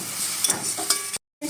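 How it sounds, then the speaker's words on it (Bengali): Mustard greens and leaves, with a little apple, are stirred in a pan with a steady sizzle and scraping strokes, close and moderately loud, cutting to a brief silence before resuming. "এবার আমি এটা ভালো করে একটু নেড়ে নেব।"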